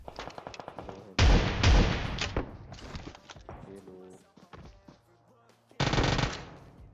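Loud automatic bursts from an UZI submachine gun and shotgun in PUBG Mobile, two sharp rapid volleys separated by quieter game sounds and someone talking, then a final burst near the end.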